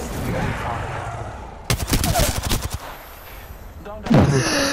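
Gunfire in the battle royale game Apex Legends: muffled shots at first, then a sharp burst of rapid close shots in the middle and another loud volley at the end, with game voice lines mixed in.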